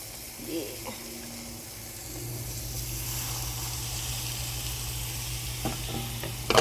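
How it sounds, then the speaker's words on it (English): Cod fillet sizzles skin side down in a frying pan with a steady crackling hiss, growing louder after a few seconds, with faint clinks and a brief voice nearby. "So here's the fish in the pan, and we're gonna let it brown on both sides."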